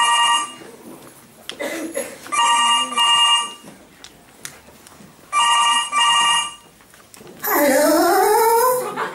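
A telephone rings loudly in repeated bursts with short pauses between them, close and clear, in a comedy sketch; a voice briefly follows at the end.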